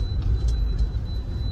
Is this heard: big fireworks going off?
no